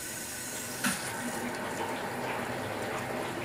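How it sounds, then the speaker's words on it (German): Water runs steadily from a newly installed low-pressure kitchen faucet filling a boiler, a continuous close splashing gush with a brief sputter near the start. "Jetzt muss sich der Boiler erstmal füllen und ihr seht, jetzt haben wir Wasser."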